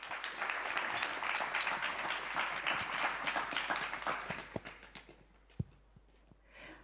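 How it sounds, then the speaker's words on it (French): An audience at a student round-table event applauds the panelists: dense clapping holds for about four seconds, then thins to a few scattered claps and fades into near quiet. "Donc je vous demande d'applaudir pour eux"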